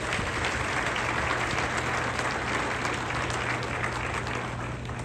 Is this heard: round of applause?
yes